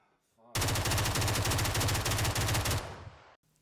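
Loud automatic rifle fire from the PUBG video game, one sustained rapid burst of about three seconds, starting abruptly after a short quiet lead-in and cutting off sharply.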